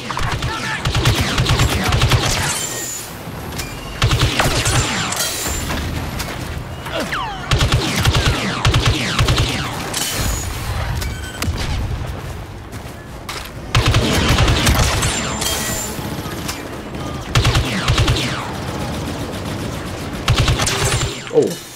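Continuous gunfire in the video game Star Wars Battlefront 2, dense rapid blaster-style shots and booms from several weapons, loud and sustained throughout with brief lulls.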